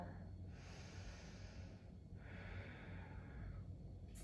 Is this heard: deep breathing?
yes